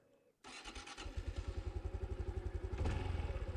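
A 2024 Honda Trail 125 motorcycle starts up close by, the starter catching with a sharp onset and then settling into a loud, fast, rhythmic single-cylinder idle chug.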